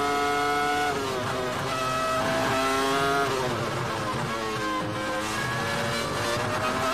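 A 2002 Formula 1 car at Suzuka during practice screams past with a high, piercing engine note, the pitch sweeping down and up through the corners, loud and continuous throughout.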